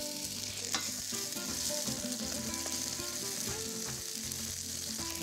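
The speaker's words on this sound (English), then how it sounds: "So add our onions." Onions hit a hot pan for satay noodles, a dense, even frying sizzle that runs steadily throughout with faint stirring scrapes and no talking.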